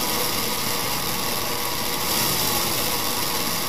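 A homemade 1:8 scale electric V8 engine model driven by a DC motor, running with a steady, dense mechanical whir and buzz, fairly loud and constant throughout, with no voices.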